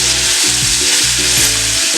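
Tomato puree from four tomatoes sizzling loudly in a hot pan for an achari baingan brinjal gravy, a steady dense frying hiss throughout with stirring scrapes and no talk.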